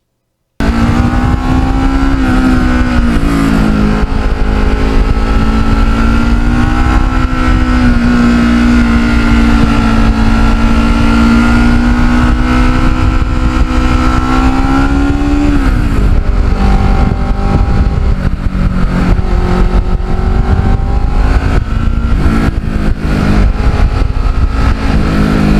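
A Kawasaki Ninja motorcycle with many carbon fiber parts, riding along with a steady, loud engine drone whose pitch holds level, dips and climbs again as it shifts, continuous throughout with no talking.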